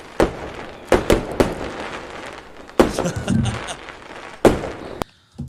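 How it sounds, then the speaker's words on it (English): Fireworks set off at night in a celebratory gathering, a series of sharp loud bangs and crackling bursts spaced over several seconds, with voices and crowd noise in between. "I'm going to get ready to set off these fireworks"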